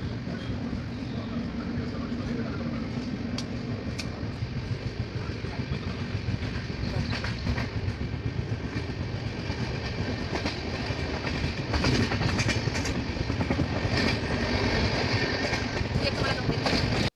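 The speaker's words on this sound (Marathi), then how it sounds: "बघा आता आमची ट्रेन निघालेली आहे" A passenger train pulling out and running, heard from inside a carriage as a steady, loud rumble with rhythmic clickety-clack of wheels over rail joints and occasional sharp metallic knocks throughout.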